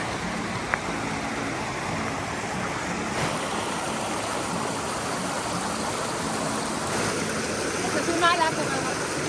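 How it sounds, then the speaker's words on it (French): A small mountain river rushes nearby in Wyoming, a broad steady wash of water with a few faint knocks and a short bird call near the end. "On va aller voir un petit peu la rivière."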